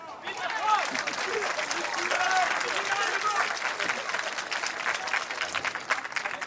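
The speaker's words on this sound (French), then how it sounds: "Que l'on applaudit." A crowd applauds steadily, a dense wash of clapping that carries on throughout, with voices mixed in underneath.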